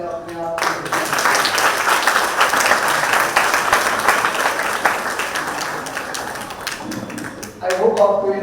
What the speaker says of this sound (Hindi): एक बार जोरदार तालियां अपने आप को दीजिए।